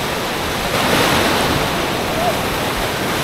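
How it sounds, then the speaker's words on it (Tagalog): Strong surf crashing on Laki Beach in Mariveles, Bataan during the rainy season, a continuous roaring wash of breaking waves with wind buffeting the microphone, loud and close. "Pero yan, ang lakas ng alon,"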